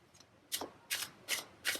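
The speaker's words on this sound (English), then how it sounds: "You heard me shuffling, right?" Tarot cards are shuffled in four quick riffling bursts, close and crisp, with short pauses between them and no talking.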